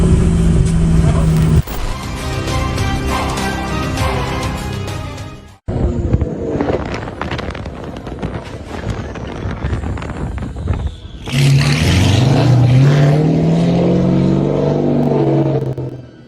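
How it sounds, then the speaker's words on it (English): A Porsche 911 Turbo S roars loudly along a road, engine note rising and falling through gear changes, with an abrupt cut and a harsher burst of revving near the end, loud and close with no voices. "A Porsche 911 Turbo S hit a dip in the road, causing concern among onlookers"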